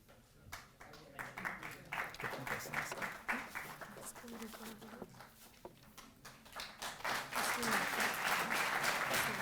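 Applause from an audience at a government ceremony honouring Tokyo Olympics athletes, crowd clapping that swells and grows louder toward the end, with speech running underneath.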